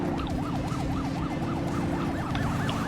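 A video game police car siren, from The Precinct, wails, rising and falling in quick, regular sweeps throughout, over a dense rumble of engine and traffic noise.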